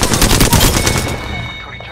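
Rapid bursts of gunfire from an Apex Legends firefight, loud and dense at first, then thinning and fading over about two seconds with no voice.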